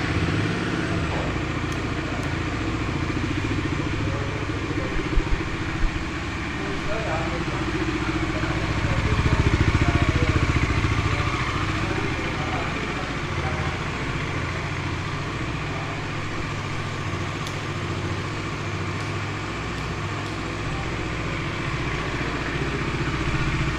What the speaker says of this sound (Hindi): अब मैं गाड़ी को आपको एक बार ऑन करके दिखा देता हूँ कि क्या साउंड है गाड़ी का